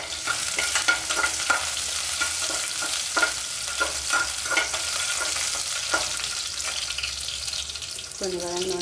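Dried red chillies and garlic fry in oil for kollu rasam, a close steady sizzle broken by repeated stirring clatters and scrapes, with a brief tonal clink near the end.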